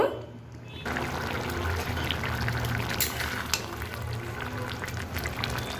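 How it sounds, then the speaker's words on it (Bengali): After a quiet moment, water is poured into a cooking curry of shrimp, ridge gourd and potato, setting off a loud, continuous bubbling rush close by. "জল অ্যাড করে দেব। সামান্য জল দেব।"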